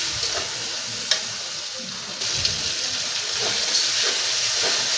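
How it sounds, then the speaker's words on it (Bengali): Shrimp hit a hot frying pan with dried shrimp shutki and spices, giving a steady, close hiss of sizzling oil with a few sharp crackles and stirring clatters throughout. "আমি চিংড়ি মাছগুলো দিয়ে নিলাম"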